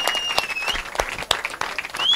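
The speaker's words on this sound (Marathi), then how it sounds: "टाळ्या शिट्ट्या वाजू द्या" Crowd clapping and whistling for a cricket series champion at a tournament prize ceremony, with rising whistles and sharp claps under brief talk, fairly close.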